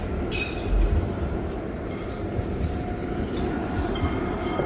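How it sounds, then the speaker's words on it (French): A tram rolls past close by in Nantes, France, with a continuous rumble of wheels on rails and faint high squeals now and then. "Et les tramways qui sont vraiment désagréables."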